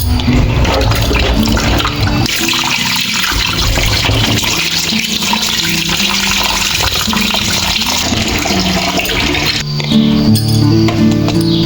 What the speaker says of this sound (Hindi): बाद मैं लग पड़ी हूँ बर्तन साफ करने के लिए